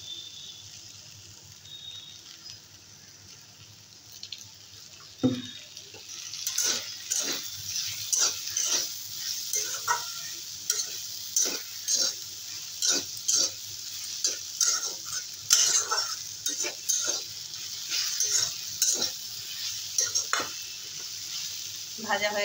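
Ingredients fry in a little mustard oil in a pan after the water has cooked off, with a steady sizzle broken by repeated rhythmic scrapes and taps of a spatula stirring, close up.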